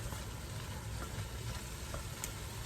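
Onions and beef sizzle steadily in a hot pan while being stirred, with a constant close frying hiss and faint scrapes, no voices.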